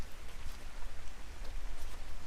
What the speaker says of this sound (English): Right now it's raining